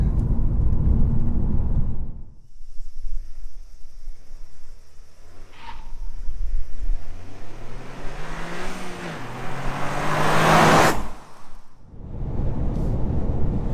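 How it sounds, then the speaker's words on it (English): Steady loud low rumble and tyre roar of a Toyota GR Yaris on low-profile tyres on the road, continuous throughout, with a brief engine note rising in the middle. "you can probably already hear it through the camera, through the microphone, and that is road noise"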